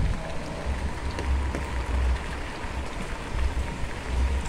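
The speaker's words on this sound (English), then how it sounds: "I'm not going outside because it's pelting with rain" Heavy rain pelting down outdoors, a steady dense hiss of drops hitting surfaces with low rumbling underneath, continuous and fairly close with no talk.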